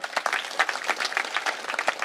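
An audience at a political speech breaks into brief, brisk applause, a dense patter of many hands clapping at moderate distance.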